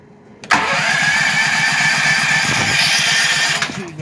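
A Duramax 8500 dual fuel generator cranks and catches, then runs loud and steady for a few seconds with a droning engine tone before the sound begins to drop away.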